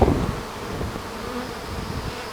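A dense, steady buzz of many honey bees at a hive hums close by, continuous and fairly loud with no voices.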